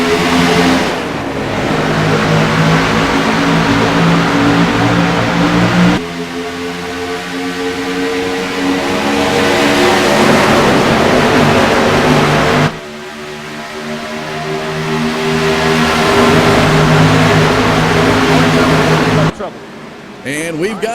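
NASCAR stock car engines drone in the iRacing Daytona 500 sim race, a loud continuous roar that shifts pitch in long sweeps as cars pass, with commentators talking over it.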